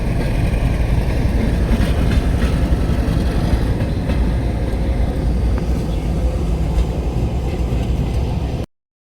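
Loud, continuous rumble of a passing train hauled by an Indian Railways WDG4D diesel locomotive, with a rhythmic clatter of wheels and a heavy engine drone, cutting off abruptly at the end.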